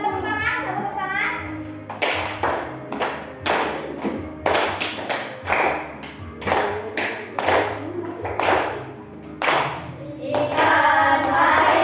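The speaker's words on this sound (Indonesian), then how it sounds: "ayo kita tepuk tangan" Children in a classroom clap their hands in uneven bursts during a lesson, with sharp claps starting after a brief pause and continuing fairly loud and close, mixed with young voices and some thumps.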